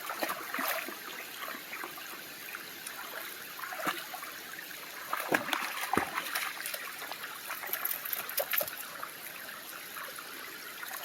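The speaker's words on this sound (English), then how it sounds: "That's the front of the waterfall." Water pours and trickles at a waterfall by a state park pond, a faint steady rushing wash with scattered splashes and brief sharper knocks, heard at a moderate distance without talk.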